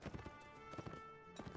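Horse hooves clip-clopping in the medieval video game Mount and Blade: Warband, a steady rhythmic trot of close, dull hoofbeats over a constant background hum, lasting about a second and a half with no talk.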